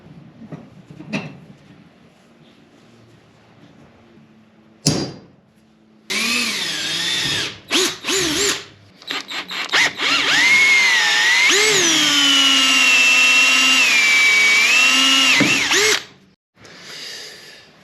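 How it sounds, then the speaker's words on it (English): A power drill with a small pilot bit whirs in short starts and stops, then runs in a long, loud, steady whine that shifts in pitch as it bites into metal motorcycle handlebars of a Honda Africa Twin. "then I'll hit it with a pilot drill, it's a really small one"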